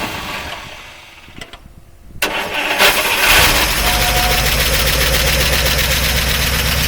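A 1953 Oldsmobile Rocket Super 88 barn find cranks on a struggling starter with a brief whirring pause, then fires and catches into a loud, steady running roar close by, with no talk.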